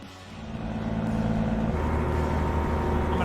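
A Kenworth T680 truck engine in American Truck Simulator builds to a deep, loud diesel drone as it accelerates, steady and close with no talking.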